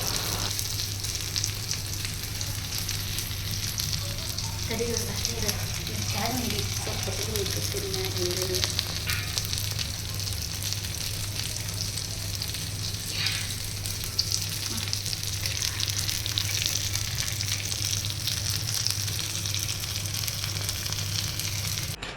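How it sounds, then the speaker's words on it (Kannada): Mangalore-style fish tawa fry sizzling in plenty of oil, a steady, dense crackle that holds for the whole stretch with a few brief stirring scrapes in the middle and no talking. "ಜಾಸ್ತಿ ಎಣ್ಣೆ ಹಾಕ್ಕೊಂಡು ಫ್ರೈ ಮಾಡಬೇಕಾಕೈತಿ"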